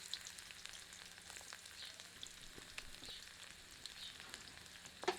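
Faint, steady sizzling and crackling of garlic frying in hot oil, with occasional small pops and a soft stir.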